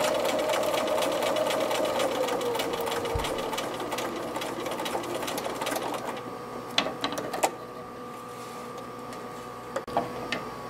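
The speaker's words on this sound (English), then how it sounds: "center it, and stitch it in place. Back tacking again at the beginning end." A sewing machine stitches Velcro onto a fabric pencil case for an 18-inch doll, whirring steadily for about six seconds before stopping, followed by a few sharp mechanical clicks.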